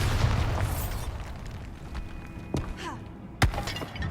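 A Bombarda spell blast in the video game Hogwarts Legacy, a sharp burst near the end over a continuous dense wash of game noise, with an earlier softer thump.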